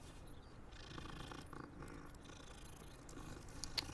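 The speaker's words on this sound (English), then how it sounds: "Look at a cat. What's up, kitty?" A cat purring in the video game Hogwarts Legacy, a soft continuous low rumble heard quietly with faint game ambience and a few light clicks.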